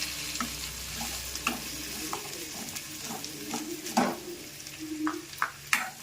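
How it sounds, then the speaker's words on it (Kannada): Two tomatoes fry in a still-hot pan just after the stove is switched off, a soft sizzle running throughout with scattered stirring clinks and scrapes of a spoon against the pan. "ಇದೇ ಬಿಸಿನಾಗೆ ಟೊಮೆಟೊ ಹಾಕ್ಕೊಳ್ತೀನಿ. 2 ಟೊಮೆಟೊ."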